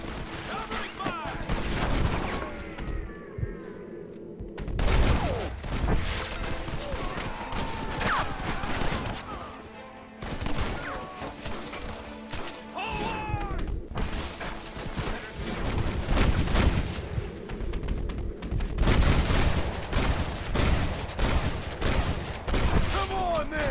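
Dense gunfire in a Red Dead Redemption shootout, rapid volleys of close loud shots crackling almost without pause, mixed with the shouting of characters throughout.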